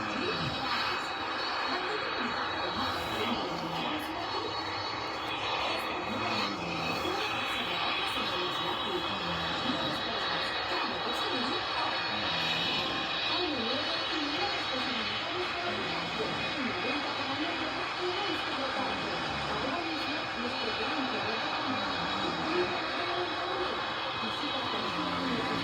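An Airbus A320 taxis to the runway in a flight simulator game, a steady engine whine and hum running throughout, with a voice talking over it.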